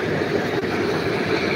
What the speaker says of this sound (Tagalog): ito yung LRT